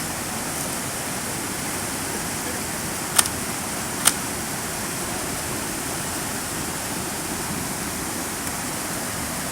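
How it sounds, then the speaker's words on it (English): Hard-running river water rushes steadily across a big gap, a dense broadband roar holding constant throughout with two brief sharp clicks near the middle. "All this hard ass water running and shit."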